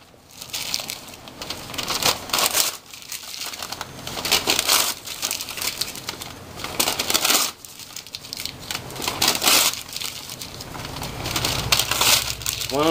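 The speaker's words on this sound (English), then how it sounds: "Take it, wad it up into small balls." Paper is crumpled and wadded by hand into small balls, close up, in repeated bursts of crackling and crinkling separated by brief pauses.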